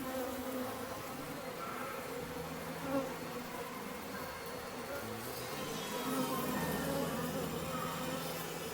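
Honeybees buzz densely around an open hive during a spring inspection, a steady close hum swelling slightly near the end, with quiet talk over it.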